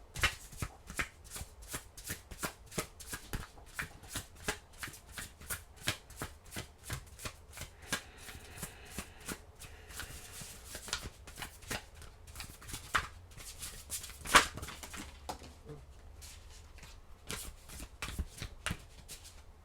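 Tarot cards being shuffled by hand, a steady run of quick papery riffles and soft slaps that stays close and fairly quiet throughout, with no talking.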